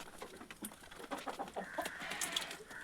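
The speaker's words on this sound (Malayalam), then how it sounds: "നമുക്ക് ഇവിടുത്തെ കോഴികളെ തുറന്ന് വിട്ടിട്ട് വരാമേ" Scattered chicken clucks and short squawks overlapping at close range, with a brighter, more sustained call rising near the end.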